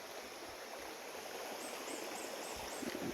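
A mossy forest stream flows steadily with a constant broadband rush of water, soft and even throughout, with no voices.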